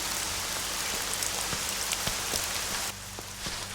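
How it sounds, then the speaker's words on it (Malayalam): Steady rain pours down on a surface, a dense even patter with scattered louder drops, continuous and close throughout with no voices. "ആ മഴയല്ലേ"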